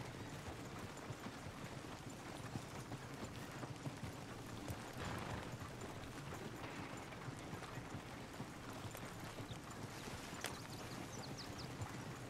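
Horse hooves clip-clop at a steady pace in Red Dead Redemption 2 on the way into a town, a continuous rhythmic trotting under ambient game noise, moderately quiet and fairly close.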